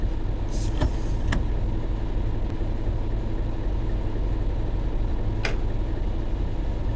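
A Class 31 diesel locomotive pulls away under throttle, a steady low heavy engine rumble heard from the cab with a few brief clicks and knocks over it.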